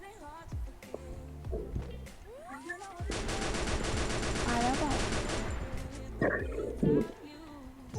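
Rapid automatic gunfire from the mobile battle game Free Fire, played on an iPhone 13, erupts in a dense sustained burst mid-clip amid other game effects, with people talking over it.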